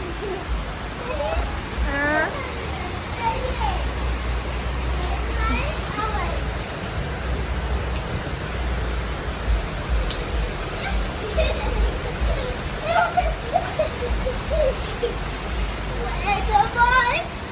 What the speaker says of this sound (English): And the rain is pouring. Pouring.